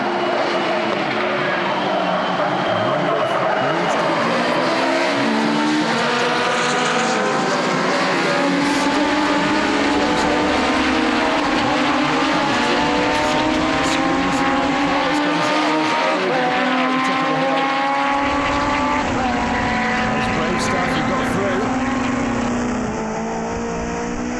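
Race cars scream past at the Portimao circuit, with loud, sustained engine whine rising and shifting as several cars accelerate and change gear, close and continuous, with a brief lull partway through.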